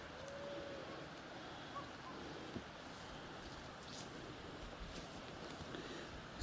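Rushing water from pond runoff and a rising spring stream at Poteryaevka, a steady broad roar that holds constant throughout, with no voices over it.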